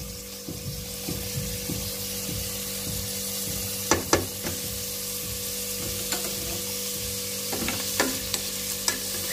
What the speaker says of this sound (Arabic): خلي البصل قبل يتقلى مليح